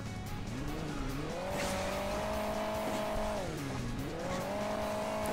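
Car driving in Hill Climb Racing 2, a continuous close engine drone whose pitch climbs, holds, then dips and rises again as the revs shift, over a noisy rushing background.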